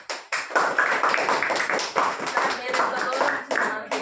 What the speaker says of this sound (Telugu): అందరూ క్లాప్స్ కొట్టి